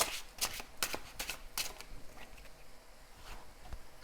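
Oracle cards being shuffled close by in quick riffling bursts, a crisp papery patter that runs for several seconds and gradually thins out toward the end.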